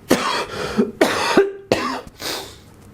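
A man coughs several times in a row, three or four harsh, throaty bursts with brief gaps between them, close and fairly loud, with no speech.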